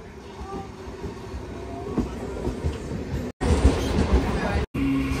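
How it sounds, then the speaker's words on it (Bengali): Rumbling rail noise from a local train between Bongaon and Ranaghat as it passes another train and pulls away from a station, with steady clatter that swells louder near the end and breaks off in two brief gaps. "আর আমাদের ট্রেনটাও কিন্তু ছেড়ে দিল।"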